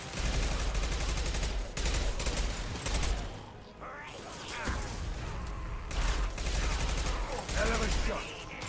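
Gunfire in the Mass Effect Legendary Edition video game: rapid automatic bursts of shots in several loud volleys separated by brief lulls, with clattering mechanical effects and scattered voices in between.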